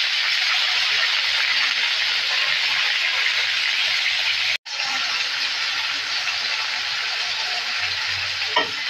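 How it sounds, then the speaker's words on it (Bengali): Sliced onion and chili frying in hot oil at the start of a chicken curry, a loud, steady sizzling hiss that runs continuously, broken by one brief cut midway, with no talking. "পেঁয়াজ মরিচটা একটু বাদামি কালার করে ভেজে নেব"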